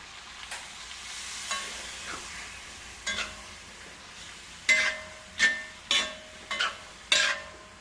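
Chicken sizzling in a frying pan with water added to it, with repeated bursts of hissing and spatter and faint stirring scrapes that grow louder and more frequent toward the end.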